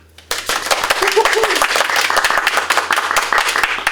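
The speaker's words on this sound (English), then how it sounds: "Let's all clap." A small crowd at a university leadership race Q&A breaks into steady applause, many hands clapping together in a dense, lively patter that continues throughout.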